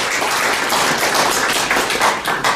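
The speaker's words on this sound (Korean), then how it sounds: "다시 한번 큰 박수 부탁드리겠습니다" An audience at a newspaper's 22nd anniversary ceremony claps in sustained, dense applause that holds steady throughout.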